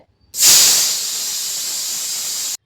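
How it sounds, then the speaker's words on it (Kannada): Steam hisses sharply from a pot of food being steamed. A loud burst opens the sound, then a steady hiss carries on alone for about two seconds before cutting off. "ಅದಿನ್ನೂ ಸ್ಟೀಮ್ ಆಗಿರಲಿಲ್ಲ, ಹಾಗಾಗಿ ಮತ್ತೆ ಸ್ಟೀಮ್ ಮಾಡೋದಕ್ಕೆ ಇಟ್ಟೆ"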